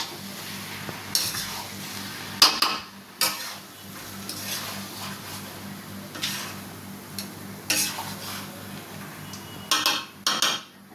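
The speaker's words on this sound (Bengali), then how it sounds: "তো চিনিটা দিয়ে ভালো করে মিশিয়ে দিই" A spoon stirring sugar into muri ghonto, a puffed rice dish, in a pan: intermittent scrapes and clinks against the metal at close range over a low steady background hum, with no voices.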